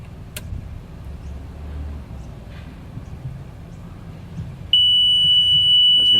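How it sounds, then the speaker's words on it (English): A flood alarm siren on a sewer pump control panel sounds suddenly as a loud, steady high-pitched tone after a stretch of quiet rumbling background, continuing without a break to the end. "the flood alarm should go off because we've filled it up with water"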